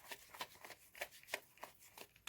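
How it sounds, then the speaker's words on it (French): Tarot cards being handled and turned over, a series of soft, quiet papery flicks and slides in a loose, uneven rhythm, close by with no talk. "je crois que j'ai une carte qui s'est retournée"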